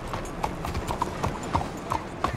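Horse hooves clip-clopping in the Red Dead Redemption 2 video game, a steady, evenly paced walking rhythm of several close, moderately loud hoofbeats.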